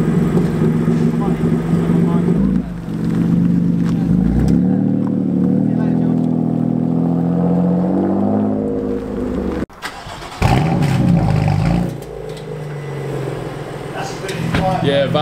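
A BMW M2 Competition engine idles and revs in a loud, close, sustained drone, rising and falling with a brief cut in the middle, while people talk over it.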